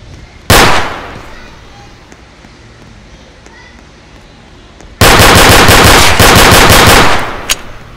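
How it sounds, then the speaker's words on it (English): Gunfire in an Industry RP 3 video game: a single sharp shot, then a loud rapid automatic burst lasting about two seconds, close and dominant. "if I want to shoot you, I could do that"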